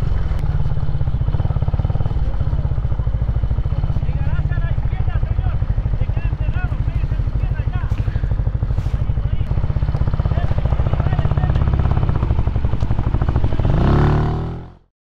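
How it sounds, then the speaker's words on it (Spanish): A motorcycle on a road trip toward the coast ploughs through a muddy stretch, its engine rumbling loud and close with rattling clatter underneath while the rider talks, cutting off abruptly at the end. "Vamos a poner en prueba mi moto."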